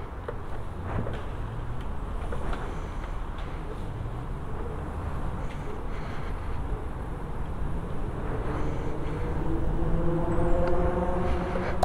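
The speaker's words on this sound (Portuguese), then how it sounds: "Para quem nunca rodou numa moto elétrica, como é que é o som de uma moto elétrica?" A Voltz EV1 electric motorcycle rides along with a faint high whine barely rising over continuous wind and road rush that grows slightly louder toward the end.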